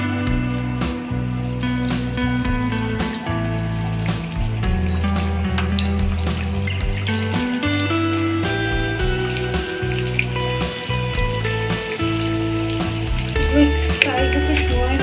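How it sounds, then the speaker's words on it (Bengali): Potato cutlets frying in plenty of hot oil in a pan, a steady bubbling sizzle running throughout with music playing alongside. "এবার আমি একে একে এই কাটলেটগুলো তেলের মধ্যে দিয়ে দেবো।"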